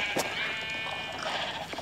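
Sheep bleating in a blocky Minecraft-style video game farm area, two short synthetic bleats standing out over a soft background tone, fairly quiet.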